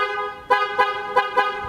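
A loud, close motorcycle dual snail horn sounds continuously, with four sharper blasts pulsing through it in an uneven rhythm.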